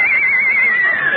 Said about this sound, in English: He even brought his horse.